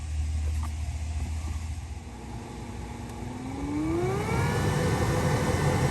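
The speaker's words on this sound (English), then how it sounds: "So as you can see, the blower motor is now working." A Honda Accord AC heater blower motor running after replacement: a steady whir that swells into a rising whine as the fan spins up, then holds a louder, even hum.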